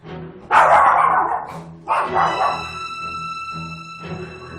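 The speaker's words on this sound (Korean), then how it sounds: "몇 번이나 짖으며 현관으로 뛰쳐나갔던 녀석" A dog barks at the front door of a home, a loud burst of barks followed by a second sharp volley and then quieter yips and whimpers, close to the listener.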